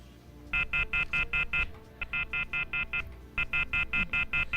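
Touch-tone dialing on a radio show's troubled phone line: three quick bursts of evenly spaced beeps, each run of about six tones separated by short pauses, loud and clear over a faint low hum.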